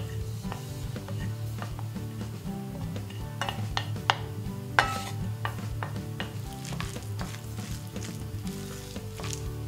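Chopped onion and eggplant fry steadily in a pan, a constant close sizzle broken by scraping stirs and occasional clinks of a utensil against the metal.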